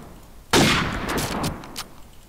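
Gunfire in Call of Duty 4, shots fired through a wall in a multiplayer map: one loud sharp burst is followed by a second and a third, then a short echoing rattle fades away. No one speaks.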